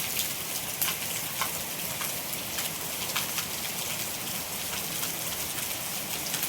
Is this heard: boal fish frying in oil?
no